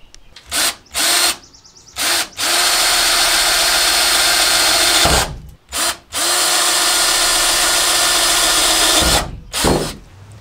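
A power drill whirs loudly in repeated bursts while drilling pilot holes in a Sprinter van's metal body, short spurts then long sustained runs, stopping and restarting several times, close and harsh.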